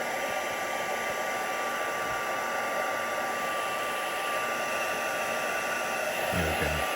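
A hair dryer blows continuously and loudly at close range while drying a painting, a steady broadband whoosh with a constant hum and a brief low thump near the end.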